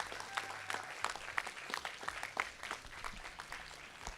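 A crowd applauds the collegiate Valorant champions at the 2025 College VALORANT Championship grand finals, with a dense, continuous wash of clapping that stays steady throughout.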